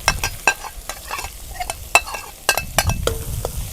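Shrimp curry ingredients stir-fried in a pan, a loud crackling sizzle punctuated by sharp spatula scrapes and knocks against the metal in an irregular rhythm, no talking.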